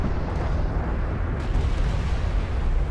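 Continuous heavy rumbling blasts of artillery fire in the real-time strategy game Homeworld: Deserts of Kharak, dense low booms rolling together without a break, loud and close throughout.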